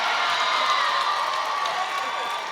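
An audience at a comedy roast claps and cheers together, whoops over a dense, steady crowd roar that fades slightly at the end.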